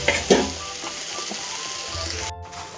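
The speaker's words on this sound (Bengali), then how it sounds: "এই যে ভাজাটা করে নিচ্ছে" Potatoes fry in a pan with a continuous close sizzle, and a couple of sharper clatters at the start.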